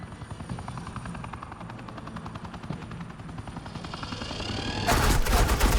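Rapid automatic suppressing gunfire in the video game Batman: The Enemy Within, a steady rattling burst that runs throughout and swells louder near the end.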